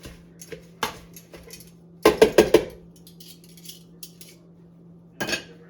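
Salted kale is mixed in a bowl with utensils, giving a burst of quick clinks and scrapes, then sparse lighter taps and a final short clatter, close and without speech.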